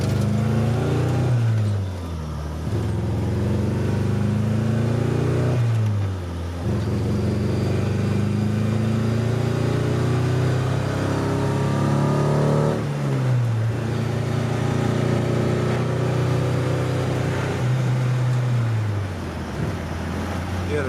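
A gutted Honda Civic with a B16 engine drives hard, its engine revving up through the gears several times with sharp drops at each shift, loud and close inside a stripped cabin.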